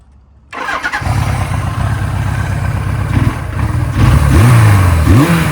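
A 1979 Suzuki GS750 motorcycle engine cranks and catches, then runs loud and close with a rough, uneven idle and a few sharp throttle blips toward the end.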